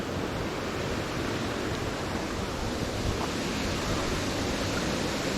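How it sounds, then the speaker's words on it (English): Darnell Creek Falls, an active waterfall, rushes in a dense, steady roar that stays loud and even throughout, with no voices. "I know you can hear it. It's probably one of the more active falls that we've been to so far."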